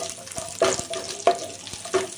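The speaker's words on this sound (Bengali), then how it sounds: "তো দুটো একসাথেই একটু কালার আসা পর্যন্ত একটু ভেজে নেব।" Raisins fry in ghee in a pan with a soft, close sizzle. Three or four louder crackling bursts come at intervals, like stirring strokes.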